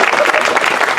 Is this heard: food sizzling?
no